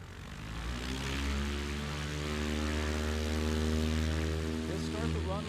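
Piper Super Cub, an older certified classic, runs its propeller engine steadily at a STOL competition, a loud sustained drone with a strong harmonic hum and a slowly rising pitch.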